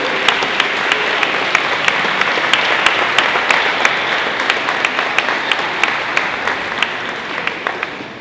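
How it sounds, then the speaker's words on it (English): A university audience gives a standing ovation with loud, sustained applause. It is a dense wash of clapping with sharp individual claps standing out, and it fades slightly toward the end. "Let's give him a round of applause and a standing ovation, please"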